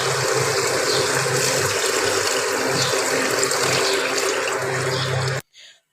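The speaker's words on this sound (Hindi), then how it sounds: "अब हम इसमें डाल देंगे यखनी" Meat broth (yakhni) is poured into a pot for white beef pulao, making a steady, loud rushing splash that runs for about five seconds and then stops abruptly.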